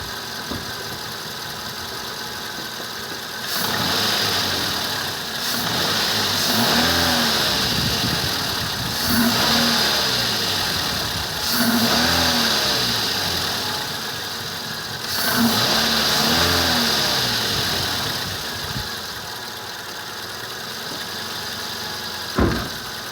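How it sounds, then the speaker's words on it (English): A 2009 Toyota Yaris base hatchback with a Weapon R Dragon intake idles, then gets a few separate revs that rise and fall back to idle, heard close with no talking. "I'll give it a couple of revs just so you guys can"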